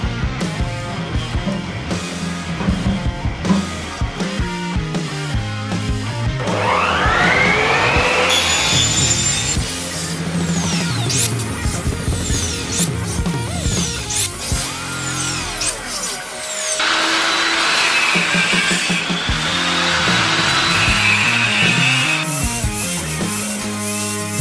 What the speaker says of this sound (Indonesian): Saya pakai meter saw ini soalnya tujuannya untuk mempercepat saya dalam proses pengerjaan.